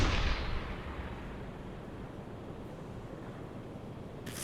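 A submarine deck gun in the UBOAT video game fires once, a deep boom at the very start that trails into a long low rumble, fairly faint overall.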